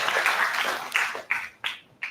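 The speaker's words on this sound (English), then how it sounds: "Let's give sir a big round of applause for his wonderful speech" An audience at an international conference on intelligent systems applauds after a speech, starting as a dense burst of clapping and then thinning to a few scattered, sharp claps.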